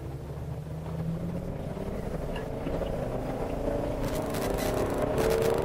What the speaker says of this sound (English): we're gonna take the Itasca for a drive and check out how it moves.